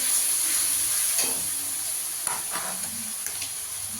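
Garlic paste stirred and sautéed in a pan, cooked until its raw smell fades, for a Bengali chicken curry: a steady close sizzle with a few soft scrapes of the spoon against the pan.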